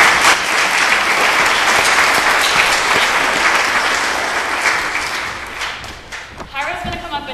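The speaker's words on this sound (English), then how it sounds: "Big round of applause for Hyro." A live conference audience at a TEDx talk in Hickory bursts into sustained, dense applause, loud and steady before tapering off near the end as scattered claps fade.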